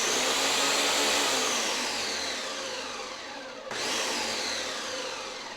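A Ninja blender purees cauliflower with a loud, continuous motor whir and churning roar that holds steady, briefly cuts out, then resumes close by with no voices.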